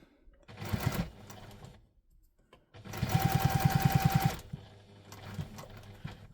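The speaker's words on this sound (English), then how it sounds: "We're going to take to the machine, and we're going to top stitch down the side." A sewing machine top stitches down the side of a wallet, running in rapid bursts of rhythmic needle clatter separated by pauses, close and clear.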